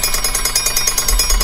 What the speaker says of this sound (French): Ah oui, c'était un signal de feu allemand